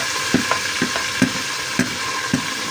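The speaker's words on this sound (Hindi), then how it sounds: "इसको 5 से 6 मिनट अच्छी तरह इनको भून लेंगे" Marinated mutton fries in a pot with a steady sizzle, broken by a regular series of scraping knocks as it is stirred, close and without talk.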